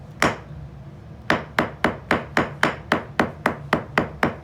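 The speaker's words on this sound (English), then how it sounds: "So I brought a hammer to simulate what a pizza feels like on a napkin" A single hammer strike on a napkin, a pause, then a steady run of about a dozen evenly spaced blows on the soft napkin, close up.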